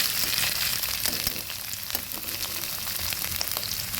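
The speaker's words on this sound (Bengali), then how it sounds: "কাঁচা গন্ধ যাওয়া অবধি আদা রসুনটা ভেজে নিলাম" Ginger and garlic frying in a pan give a steady, close crackling sizzle with tiny pops, continuing evenly for four seconds with no voices.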